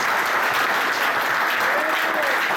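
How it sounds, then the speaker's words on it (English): Applause from a crowd for the 2022 B.A.S.S. tournament champions on the Delta, steady and dense throughout, with a voice faintly audible beneath it. "Give a round of applause for the 2022 B.A.S.S Champions."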